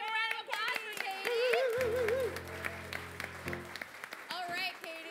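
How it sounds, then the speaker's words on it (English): Audience applause at an improv comedy show, clapping mixed with cheers and whoops from the crowd and a sustained sung or hummed note partway through, fairly loud and continuous for several seconds. "Let's give a round of applause for Katie."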